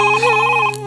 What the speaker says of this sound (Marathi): फोन येतोय, कोणाकडनं तरी बोलतोय.